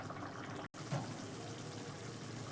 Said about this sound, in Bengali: এবার একটু ফুটুক